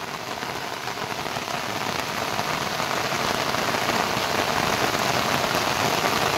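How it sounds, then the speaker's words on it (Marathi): Rain falling steadily in a garden, a dense even patter on surfaces growing slightly louder, close and continuous with no voices. "हे बघा मंडळी मस्त आपल्या बागेत छान असं पाऊस पडतोय."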